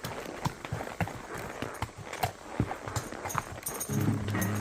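Hooves of a young horse ridden bridleless clip-clop along a hilly trail in a steady walking rhythm, close and fairly loud, with a low rumble building near the end.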